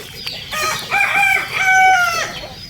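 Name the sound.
chickens clucking and crowing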